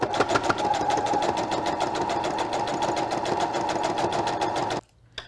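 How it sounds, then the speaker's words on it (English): Sewing machine stitching a strap for a DIY car trash bag: a fast, even mechanical whir of rapid needle strokes runs steadily, close and loud, then stops abruptly near the end. "I'm gonna sew all the way to the bottom edge where we started"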